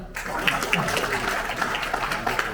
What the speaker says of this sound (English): Prove your presence by giving a big clap.